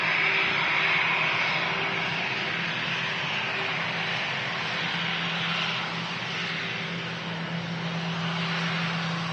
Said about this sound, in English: Whiskey Charlie on the reg of this Lufthansa A320 with the sharklets as well.